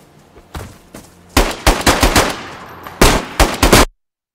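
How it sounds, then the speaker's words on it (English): Gunshots in DayZ, loud sharp reports: a couple of single shots, then rapid bursts of close fire with short gaps, cutting off to silence at the end. "Shot him twice."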